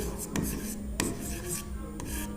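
Chalk or marker scratches across a classroom board while a matrix determinant is written out, a few soft rubbing strokes with sharper taps at the start of each mark, close and steady with no talk.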